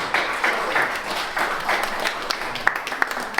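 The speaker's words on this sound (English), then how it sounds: "but you applaud him nonetheless." A room audience applauds a raffle winner at a Taylor 50th anniversary showcase event, with close, steady clapping and a few sharp individual claps standing out near the end.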